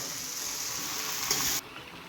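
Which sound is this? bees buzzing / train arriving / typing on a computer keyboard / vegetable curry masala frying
vegetable curry masala frying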